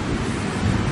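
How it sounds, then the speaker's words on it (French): Ocean waves rolling in on open water, a steady broad wash of surf with a low rumble, loud and continuous with no pause throughout. "comment les vagues se forment dans les eaux de l'océan"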